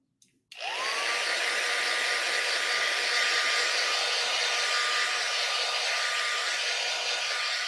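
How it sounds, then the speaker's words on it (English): A crafting heat tool switches on after a brief click and blows a loud, steady stream of hot air that holds evenly throughout. "it gets into the heat tool"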